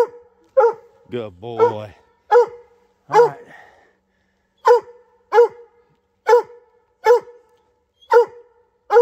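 A mountain cur coon dog on a coon hunt barks repeatedly outdoors, loud sharp barks in a steady rhythm with a brief whining yelp early on, while someone speaks briefly.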